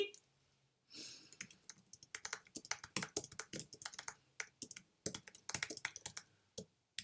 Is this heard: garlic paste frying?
no